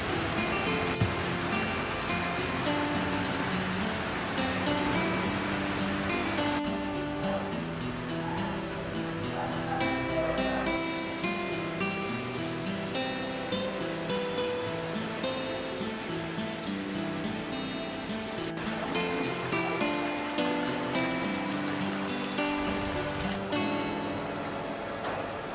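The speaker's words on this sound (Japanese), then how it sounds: "海ですね、こっちは。" Ocean waves wash steadily onto the coast at Kumomi hot spring town, a continuous rushing surf that swells and recedes without speech.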